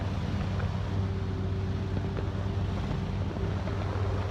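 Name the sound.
electric hovercraft running at almost full thrust in wind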